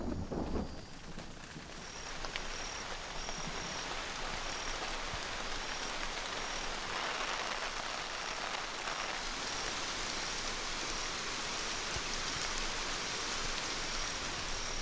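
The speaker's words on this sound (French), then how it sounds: "on réalise que c'est la pluie qui arrive" Steady rain arrives in a forest, pouring down in a dense, even hiss, starting slightly lighter and quickly settling into a constant heavy downpour.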